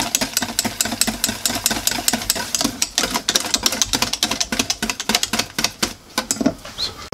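An electric mixer whips cream for a strawberry and kiwi mousse tart, giving a fast, rattling, rhythmic whir that pulses steadily at moderate loudness.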